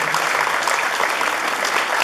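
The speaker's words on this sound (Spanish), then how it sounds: "Un fuerte aplauso, por favor." An audience at a roofing handover event in Naupan gives loud, sustained applause for a town councillor, many hands clapping in an even, unbroken burst.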